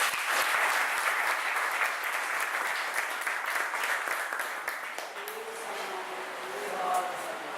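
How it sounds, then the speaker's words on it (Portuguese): A congregation at a national church convention of the Ministério Caminho Novo bursts into dense, sustained applause, loud and steady, thinning slightly toward the end, with a faint tonal voice or instrument emerging underneath. "Vamos aplaudir Jesus."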